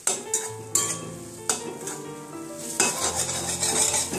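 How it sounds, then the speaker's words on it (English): Rice frying with turmeric powder in a home kitchen pan, a close sizzle with repeated scrapes and clinks of a utensil stirring against the metal, no voices. "the rice should be fried"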